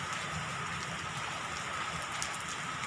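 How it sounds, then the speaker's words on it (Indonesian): Rain falls steadily over Jayapura city, a dense, even patter and hiss with no break, close and fairly loud, with no voices. "Jayapura lagi hujan."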